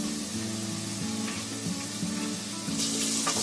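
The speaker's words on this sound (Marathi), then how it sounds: "गाजर टाकल्यावर पण मी 2 मिनिटं ढवळून घेतलंय" Carrots frying in a pan with a steady hissing sizzle, broken by the scrape of a spoon stirring them every second or so, close and continuous.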